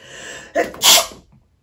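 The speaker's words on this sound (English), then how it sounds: "1 sec, I'm going to sneeze." A single loud sneeze up close, a sharp inhale followed by the burst, then quiet.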